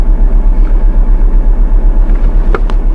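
A 1979 Mercedes 300SD W116 diesel engine runs at a steady idle, a loud, even, pulsing rumble with each firing stroke distinct, with a brief faint click near the end.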